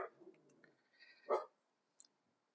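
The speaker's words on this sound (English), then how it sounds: "you hear the dog in the background trying to ask to go outside" A dog in the background of a tabletop game session lets out a single sharp bark mid-clip, preceded by faint indistinct noise and followed by a brief click.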